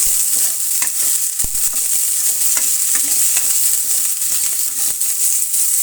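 Chopped onion, dried chilies and curry leaves fry loudly in hot oil, a dense, close, continuous sizzle with crackling pops and a few scraping stirs, no voices.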